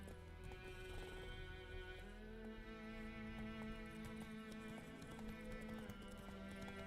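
Hooves of Roach, the horse in The Witcher 3, clopping along in a steady trotting rhythm beneath a continuous game music and ambience bed, with a brief whinny-like tone.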